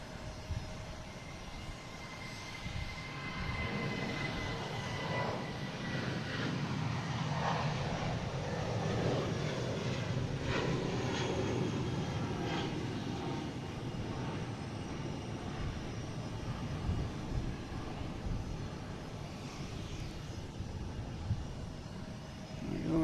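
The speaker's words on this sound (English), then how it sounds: "you got American Airlines A319 heading to, well, it came from Reagan, so we assume it's going back to Reagan" An American Airlines Airbus A319 jet at Boston Logan gives a long, steady engine roar with shifting whining tones as it moves, moderately distant and continuous, with no talking.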